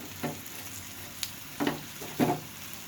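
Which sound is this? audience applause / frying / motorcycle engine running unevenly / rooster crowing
frying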